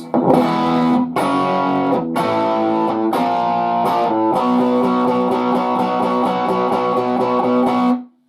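Heavily distorted electric guitar chugs through a section of a song in all downstrokes, with rapid even palm-muted hits and several chord changes, loud and upfront for about eight seconds.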